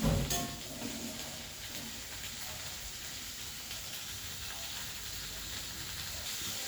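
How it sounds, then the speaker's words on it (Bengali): Mixed vegetables frying in hot oil with tempered spices for a pea dal, a steady loud sizzle and hiss that keeps going without a break, with a brief clatter at the very start. "এখন আমি এই ফোড়নের মধ্যে সমস্ত সবজিগুলোকে খুব ভালো করে ভেজে নেব।"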